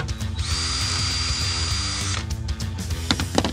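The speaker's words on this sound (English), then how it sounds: "So I have pre-drilled my holes" A power drill bores pilot holes in a QuickStep stair tread, giving one steady whine of about two seconds, followed by short clicks and knocks close by.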